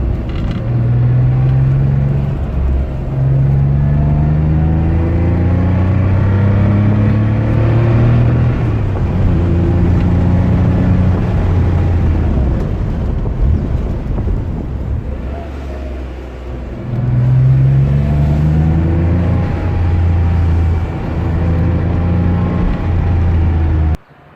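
An air-cooled Porsche 911 Carrera Targa driving, its engine droning loud and close with rising and falling tones as it revs through gears, a brief dip in the middle before pulling strongly again.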